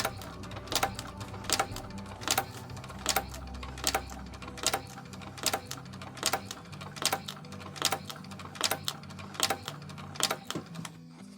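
A sewing machine stitches along a guideline on the exterior of an EVA Shamballa handbag with foam inside, running in short rhythmic bursts that repeat about every second. Each burst is close and sharp, and no one speaks.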